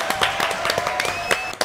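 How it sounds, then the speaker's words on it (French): An audience claps at the end of a show, with irregular individual hand claps and some thin whistling tones heard over a low murmur. "Applaudissements à tout le monde."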